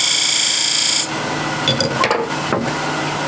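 A 10mm spindle gouge cuts a bead foot into a small wooden offcut spinning on a lathe, a steady scraping hiss with a few short rasping pulls near the end.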